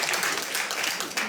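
Audience applause fills a comedy club, a dense, steady wash of clapping from many hands that carries on without pause for the whole stretch.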